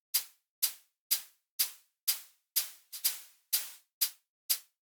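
A closed hi-hat sample layered with a noise-generator burst that makes it ring like an open hi-hat, ten or so crisp, bright hits in a steady rhythm, each with a short hissing decay, alone and quiet.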